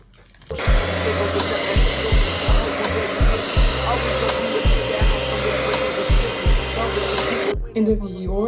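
A blow dryer drying hair for a silk press on 4C natural hair, a loud steady whir close by, pulsing rhythmically as it is moved, then cutting off near the end.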